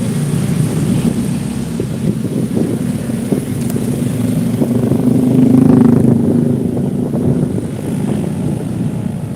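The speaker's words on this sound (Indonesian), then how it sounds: "ada motor" A motorcycle passes in jammed city traffic: a loud engine drone under wind buffeting swells near the middle and then eases off, with no talking.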